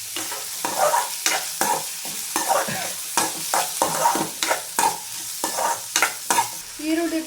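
Finely chopped onions and garlic fry in a pan with a steady sizzle, broken by repeated sharp scraping strokes of a spoon as they are stirred, close up and with no talking.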